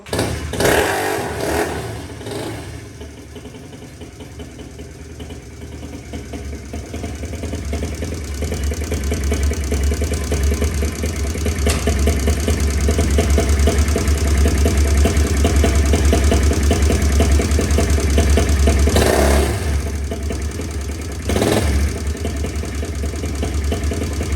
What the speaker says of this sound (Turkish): son olarak arkadaşlar sesini dinleteyim motorun